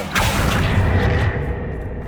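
A spell cast in Hogwarts Legacy gives a brief bright whoosh near the start, then a low rumbling, booming body that carries steadily for about two seconds before easing off, with no talk over it.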